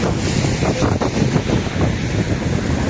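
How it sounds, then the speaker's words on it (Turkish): Gusty wind in cold rain buffets the microphone by the sea at Unkapanı, Istanbul, in a loud, continuous roar, with a surf-like rush underneath and no voices. "Bir yandan rüzgar bir yandan yağmur."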